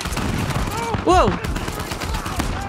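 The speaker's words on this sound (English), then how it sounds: "Who's shooting me? Oh my god, those shotguns are crazy." Shotgun fire in Uncharted 4: A Thief's End, a single loud close blast among steady game noise and chatter.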